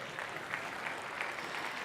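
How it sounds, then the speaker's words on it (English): Steady applause from a large audience filling a big conference room at a Microsoft 365 presentation, continuous and even throughout without breaks. "okay, yay, a little more clapping"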